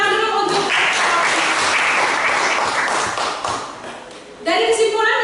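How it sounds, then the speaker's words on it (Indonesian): Classroom applause for a student group, a burst of many hands clapping that swells and then tapers off, with talking at the start and end. "kita kasih tepuk tangan dulu untuk"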